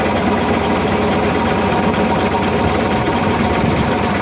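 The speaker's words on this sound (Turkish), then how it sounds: "Traktörümüzün arkasında tamburlu kopuşma makinemiz takılı. Eski eski düzen bir ot, ot biçme makinası." A tractor runs steadily with an old-style drum mowing machine attached behind it, cutting hay; the engine is loud and close, with a constant droning and rattling hum and no talking.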